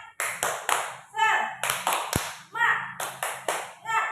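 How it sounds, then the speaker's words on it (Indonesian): Sixth-grade classroom children doing the rhythmic 'tepuk semangat' chant-and-clap, bursts of group clapping in a patterned rhythm alternating with children's voices chanting together, close and lively. "Tepuk semangat."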